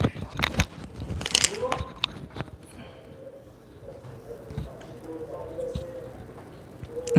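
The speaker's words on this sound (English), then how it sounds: "the bird just comes in and says hello" A pigeon or dove coos indoors, giving low soft cooing beneath nearby clattering and rustling while a person talks.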